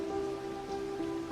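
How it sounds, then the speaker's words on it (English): An autumn rain shower falls in Kanazawa, a soft steady patter of drops on surfaces at a quiet level, with a faint constant tone running underneath. "Now it's raining."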